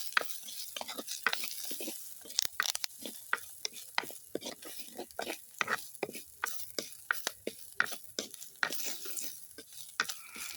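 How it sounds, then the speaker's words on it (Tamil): Spices such as fenugreek and fennel seeds are stirred in a hot pan for shark fish curry, with a steady sizzle under repeated close scraping strokes of a spoon against the pan. "கிண்டி விடுவோம்."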